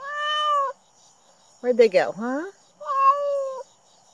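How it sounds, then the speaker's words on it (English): An abandoned cat meows loudly and up close, giving three drawn-out calls with a short pause after each, while a person speaks softly to it between the calls. "This is the sound of a cat that's been abandoned."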